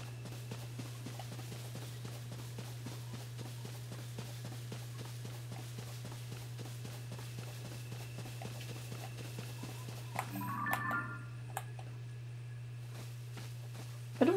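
Horse hooves clip-clopping in the video game Zelda: Tears of the Kingdom, a quiet, steady run of regular hoofbeats over a constant low hum, followed by a brief louder game sound near the end.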